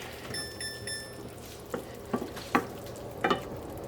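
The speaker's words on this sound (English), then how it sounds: "I have 4 dried button mushrooms, brown mushrooms, and I've just chopped them up, removed the stems, and we're going to stir them in" Chopped dried button and brown mushrooms stirred into a ravioli filling in a hot pan: soft sizzling with a few distinct scraping knocks of the spoon against the pan, close and fairly quiet.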